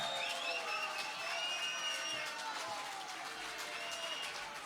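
Concert audience applauds the band's original drummer at a reunion show, a steady, dense wash of clapping mixed with some cheering and voices, fairly distant and even throughout.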